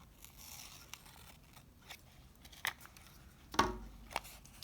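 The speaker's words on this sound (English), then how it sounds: "we are going to go in and snip one of the triangles out" Scissors make a few quiet, sharp snips through a paper flower petal shape during card crafting, three brief cuts spaced apart over low room hiss.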